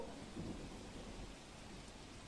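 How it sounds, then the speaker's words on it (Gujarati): Steady, dense rain pours down on Ahmedabad without pause, a constant broadband wash with a faint low rumble underneath. "અમદાવાદ શહેરમાં વરસાદ વરસી રહ્યો છે."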